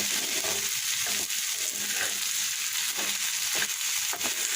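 Vegetables fry uncovered in a pan with a little water, giving a continuous close-up hiss and sizzle broken by soft stirring scrapes at a fairly even rhythm.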